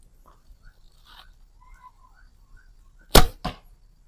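A few faint birdcalls, then an arrow released from a bow using a khatra release with a sharp whoosh, followed moments later by a quick thud as it hits the target.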